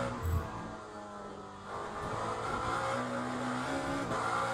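In the racing game Le Mans Ultimate, a race car engine drones steadily in a sustained high-revving tone that swells slightly partway through as the car runs over bumps through a chicane.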